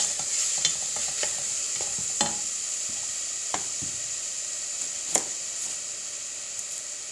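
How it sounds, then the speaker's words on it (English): Onions gently frying in a pan with a steady soft sizzle, stirred now and then with a wooden spoon that gives scattered scrapes and taps, close and moderately loud, no voices. "with a wooden spoon, I'm just gonna gently fry them"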